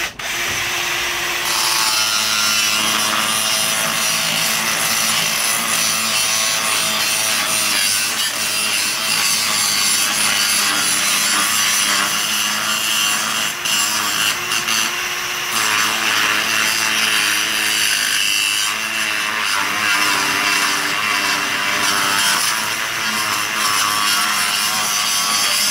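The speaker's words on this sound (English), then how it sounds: "So we need to sand it or grind it with any tools you have." Sanding or grinding a brushless motor mount for an electric skateboard with a power tool gives a steady, loud abrasive whine and rasp that runs continuously for about twenty-five seconds, with slight shifts in pitch and pressure along the way.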